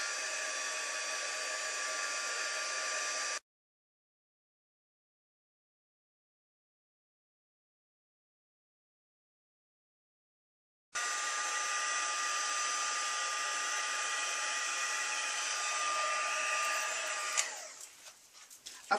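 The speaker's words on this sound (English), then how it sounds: "I'm also using the heat tool because the hairdryer will not get hot enough" A steady, loud heat embossing tool blows hot air for a few seconds, cuts out into silence, then starts again and roars on before sputtering at the end.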